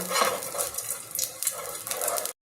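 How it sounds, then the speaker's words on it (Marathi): A metal spoon scrapes and swirls a little oil across a nonstick tava in a home kitchen while making sabudana thalipeeth, giving a close, steady run of soft scraping strokes with faint sizzle and no voices. "चमच्याच्या साहाय्याने मी तेल असं पसरवून घेतलेलं आहे।"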